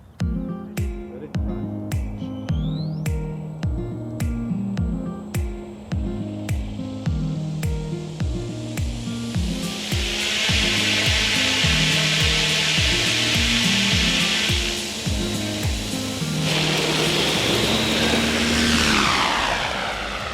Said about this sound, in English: You can hear the propeller takes a really big bite, and she's off like a rocket.